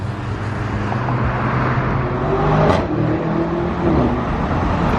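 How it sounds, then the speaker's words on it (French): A Lamborghini Urus revs and accelerates nearby in Monaco, a powerful whooshing roar rising and passing, with steady traffic noise underneath. "petit Urus qui a accéléré, je sais pas si vous avez entendu"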